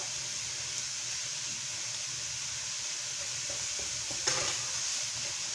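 Onion and coleslaw browning in a dry pan for egg roll in a bowl, a faint steady sizzle and hiss throughout with a brief scraping stir near the end.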